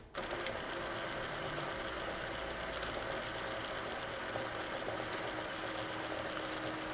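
A Remex RRS7155BA1 punched tape reader running a tape, giving a loud, steady mechanical whir and chatter that starts abruptly and holds even throughout, close up with no talking.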